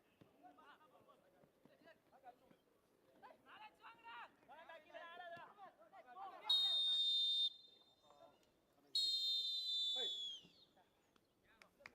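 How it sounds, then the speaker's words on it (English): A referee's halftime whistle at a third-division football league match at the Dempo Academy ground in Korlem, Goa sounds as two long, loud, piercing blasts after a stretch of crowd chatter and talk. "And that's the halftime whistle here at the Dempo Academy ground in Korlem, Goa"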